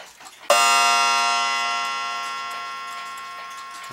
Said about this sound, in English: The typical Smith's Enfield gong sound.